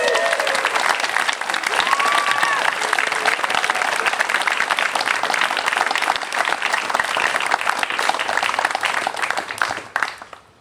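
Wedding guests burst into sustained, dense applause with a few cheers mixed in, continuing loudly for about ten seconds before fading out.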